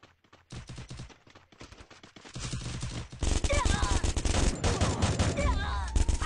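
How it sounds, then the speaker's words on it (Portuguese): A big gun firing in a shooter video game, rapid bursts of shots that build into dense, loud continuous fire, with other game noise underneath. "Levar essa arma grande. Vamos ver se eu mato algum com essa."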